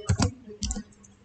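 Mouse clicks on an Apply button in Tableau: two quick pairs of crisp, close clicks, faint and brief.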